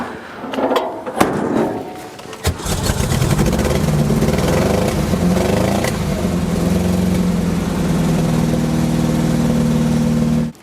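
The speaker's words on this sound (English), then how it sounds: "It's an exhaust that is extremely loud." A Karmann Ghia engine runs through an extremely loud exhaust, recorded from inside the car. A few clunks and a start lead into a steady, rough, droning roar that holds loud until it cuts off at the end.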